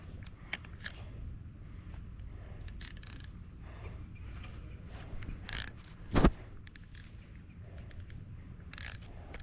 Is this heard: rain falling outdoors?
no